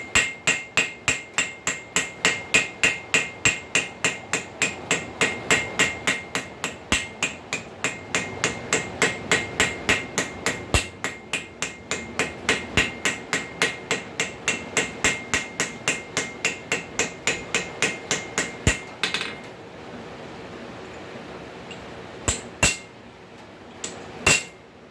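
Rapid, evenly paced ball peen hammer blows texturing metal, dozens of sharp ringing strikes in a steady rhythm close by, stopping near the end with a few last isolated taps.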